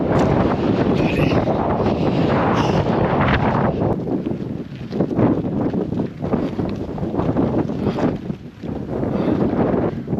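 Strong wind blowing across a mountain roadside high in the Andes during a solo bike climb, loud continuous buffeting gusts on the microphone that swell and ease throughout.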